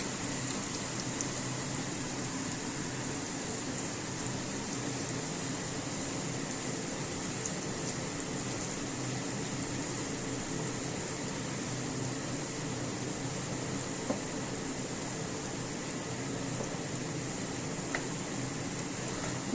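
Kata nimki, strips of dough, fry in hot oil with a steady, soft, even sizzle and hiss that goes on without a break and has no voices over it.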